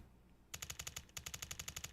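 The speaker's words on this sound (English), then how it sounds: "the sound of shots and explosions tearing through the air" Rapid bursts of automatic gunfire from heavy weapons in the video game SANABI, with a brief pause and then a fresh volley, loud and close with sharp repeated cracks.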